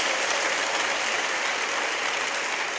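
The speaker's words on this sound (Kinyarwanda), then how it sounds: "Nimukomere Imana amashyi." A church congregation applauds for God in a short burst of dense, even clapping that stays steady and fairly loud, with no talking.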